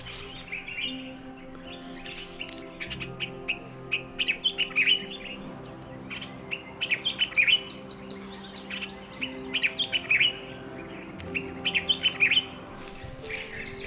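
A bird in the Botswana bush calls in repeated bursts of bright chirps and twittering, fairly close and clear over a steady low background hum.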